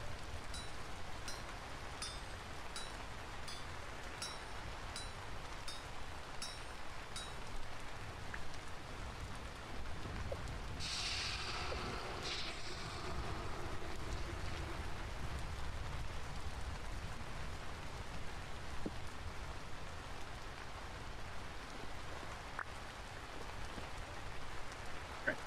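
Steady rain falls in the video game Vintage Story, a constant soft wash close around the listener for the whole span, with a brief louder gust or splash midway and faint ringing taps early on.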